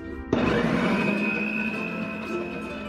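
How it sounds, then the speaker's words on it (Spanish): Electric kitchen blender starts abruptly and whirs steadily, blending cooked beans with a loud continuous motor whine that holds level to the end, no voices. "ya tengo los frijoles en la licuadora"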